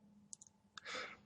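A computer mouse clicks a few times while a tutorial user works in Android Studio: two quick light clicks, then another close, sharp click, followed by a brief soft breathy rustle; quiet and close, with no talk.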